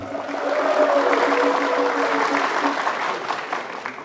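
Audience applause at a Balinese quiz show semifinal, a steady wash of clapping lasting about four seconds with a voice calling out over it.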